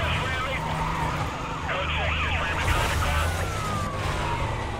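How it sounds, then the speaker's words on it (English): A stolen garbage truck in Need for Speed Carbon rumbles along with a low engine drone while wailing police sirens sweep up and down around it. "we drive a garbage truck in Need for Speed Carbon"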